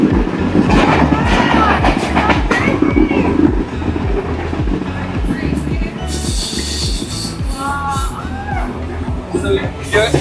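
A passenger train from Colombo to Galle, Sri Lanka, rumbles along with rhythmic clickety-clack from the wheels, loud and close, while people talk over it and brakes squeal briefly.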